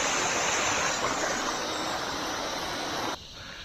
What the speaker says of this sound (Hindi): यहाँ से आ रहा है पानी